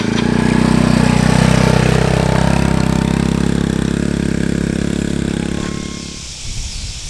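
A four-wheeler ATV engine runs loud and close at a rough, steady idle for several seconds, then cuts off, leaving faint background sound.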